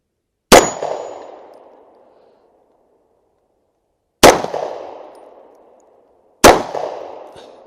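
Three sharp, loud gunshots from a Smith & Wesson M&P9 Shield EZ 9mm pistol firing Hornady ammunition, each cracking close by and ringing out in a long echoing decay, spaced several seconds apart.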